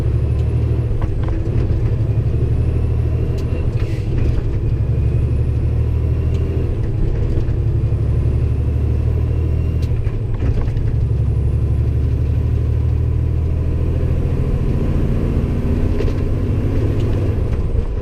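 A heavy truck with a 13-speed transmission drives on the road, its engine rumbling steadily and loud inside the cab, with brief shifts and air hiss punctuating the drone throughout.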